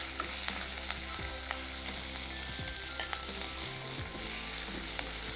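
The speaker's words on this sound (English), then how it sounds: "So we can see the spices are roasted and the curry leaves are fried." Spices and curry leaves sautéing in oil in a pan, a steady moderate crackling sizzle with occasional light scrapes and clicks of a spoon, close and continuous, with no speech.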